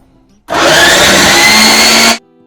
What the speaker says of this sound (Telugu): అది వేసేసి మిక్సీలో పట్టేస్తున్నాను